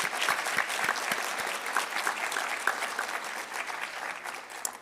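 An audience at a university address claps in sustained, even applause, a dense wash of hand claps with no talk over it.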